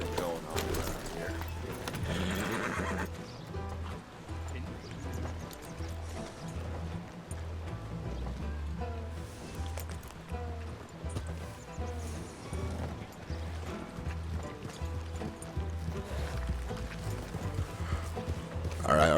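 Steady, rhythmic horse hoofbeats clop along at a walking pace, mixed with background sounds from the video game Red Dead Redemption 2 roleplay and occasional voices.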